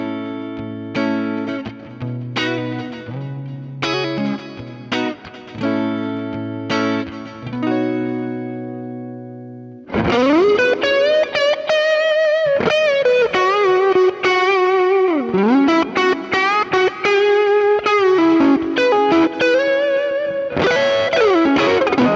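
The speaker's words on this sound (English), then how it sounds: "This is emulating an overdriven 60s blackface amp, and it's a super useful drive for vintage type tones." Electric guitar played through a Fractal drive emulating an overdriven 1960s blackface amp, starting with sparse, ringing chords and then breaking into loud, continuous, gritty driven lead phrases with bends for the second half.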